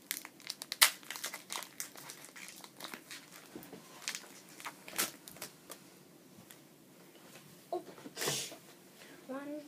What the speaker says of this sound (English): Okay, final pack. I'll open it and do the card trick.